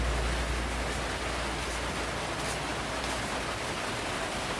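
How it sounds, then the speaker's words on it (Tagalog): Heavy rain falling in a steady, dense roar that fills the whole stretch evenly, loud and close with no voices. "ngayon ang lakas ng ulan guys"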